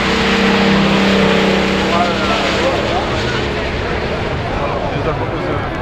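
A Koenigsegg supercar engine roars loudly and steadily, with voices talking over it.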